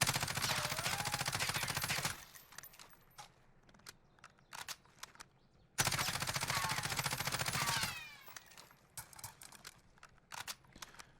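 A Ram 7 rifle fires in Warzone in two long full-auto bursts of rapid, evenly spaced shots, loud and close. Quieter scattered pops and clatter follow each burst, and no one speaks.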